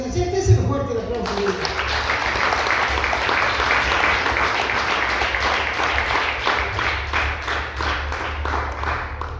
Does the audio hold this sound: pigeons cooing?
no